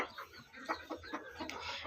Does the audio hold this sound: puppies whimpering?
no